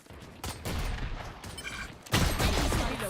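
Gunfire in the video game Valorant during a pro esports match, rapid overlapping shots and bursts of loud game effects, dense and fairly close, with a brief tonal effect in the middle.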